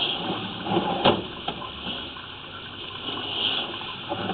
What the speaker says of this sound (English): As you can see, the water is just flowing nicely now.